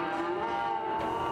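A single cow or steer at a Texas livestock auction barn lets out a long, clear moo that holds steady, then wavers slightly at the end, close and alone with faint background hum.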